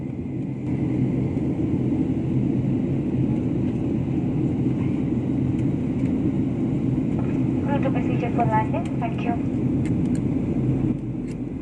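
Steady, loud low roar of an airliner cabin on landing approach into Jeddah, Saudi Arabia, continuing throughout, with a voice briefly heard over it near the end.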